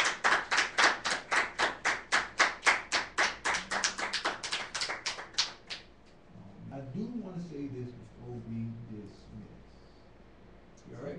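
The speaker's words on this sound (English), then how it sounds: "Come on, give Father a hand clap of praise." A church congregation claps hands in praise in a fast, steady rhythm of about two dozen sharp claps, close and loud, then stops as a voice begins talking.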